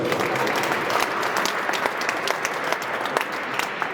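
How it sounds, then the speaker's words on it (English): A crowd at a fundraiser gala gives sustained applause, dense overlapping hand claps in a steady roar with scattered sharper claps throughout and no speech on top. "Give him another round of applause."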